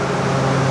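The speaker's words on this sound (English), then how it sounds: "Sorry about the noise, that's the noise of the fan." Steady broadband whir of a fan running close by, constant and fairly loud with a low hum underneath, no talking.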